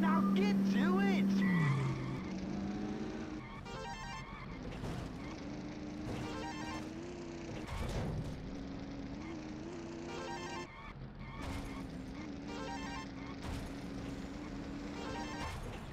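Cars racing in the video game Midtown Madness 2: a steady engine drone rising and shifting pitch, with bursts of mechanical rattle and a short skid, continuous and fairly close throughout.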